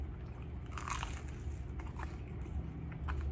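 Crunchy crust of a coal-oven pizza bitten and chewed close to the mic, a few soft crisp crunches with no talk.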